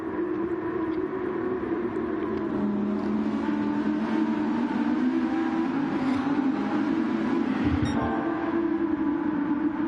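Race cars driving in a sim racing video game league race, a continuous layered engine drone with shifting pitch, held at a steady level for the whole stretch with no talking.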